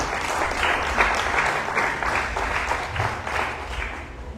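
Congregation applause during a church sermon, a steady round of clapping from many people that holds evenly for several seconds before easing slightly.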